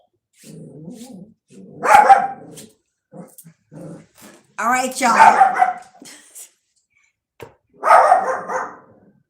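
A dog barks and growls in several loud, close bursts with short yips between them, and a person speaks briefly in the pauses.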